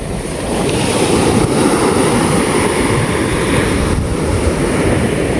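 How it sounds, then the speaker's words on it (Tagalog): Large ocean waves roll in at low tide with a loud, continuous churning wash, heavy wind buffeting the microphone throughout and no voices. "Medyo malaki po yung alon."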